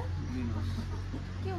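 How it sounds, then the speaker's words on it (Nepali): A chicken clucks faintly at a rural Sikkim farmhouse with cattle. The brief clucks sit low in a steady background hum. "एउटा बाछा कुखुरा पनि रहेछ।"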